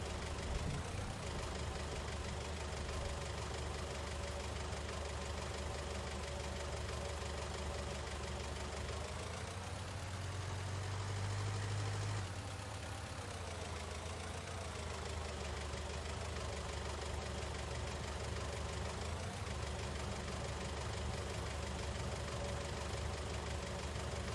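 Tractor engine in the Farming Simulator 19 video game, a steady low idling drone with a knocking mechanical throb that runs continuously and slightly shifts pitch midway, no talking.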